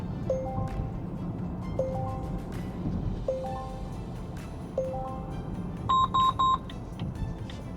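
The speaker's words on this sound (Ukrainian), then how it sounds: "Тримайте кермо, попередження, червоне попередження, знову попередження, знову" Driver-assistance warning beeps from a Volvo XC60 T8 plug-in hybrid: four repeated two-tone chime pairs spaced evenly, then a rapid burst of louder, higher beeps, all heard over steady road and cabin noise.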